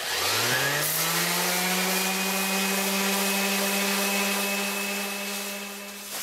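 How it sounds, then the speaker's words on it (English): An orbital sander finishes the bottom of a wooden mortar. It spins up quickly to a steady, loud, close-up whine and hum, then eases off slightly near the end. "take the orbital sander and finish the bottom of this off"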